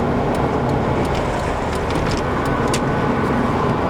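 A Toyota MR2 drives along with a steady, dense road and engine noise heard from inside, continuous and fairly loud throughout with no talking.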